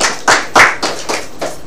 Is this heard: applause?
yes